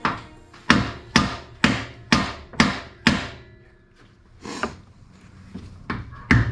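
A screwdriver pries at a Subaru engine bracket during engine removal, sharp metallic knocks repeating in a steady series of about seven strikes, then a few scattered clanks, close and loud.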